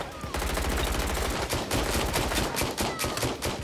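Sustained automatic gunfire in the video game Watch Dogs: Legion rattles in fast, loud, continuous bursts, with brief gaps between strings of shots.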